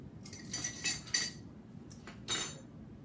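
Spoon clinking against a bowl while cocoa powder is mixed into red velvet cake batter, a few light metallic taps and scrapes at close range with quiet gaps between them.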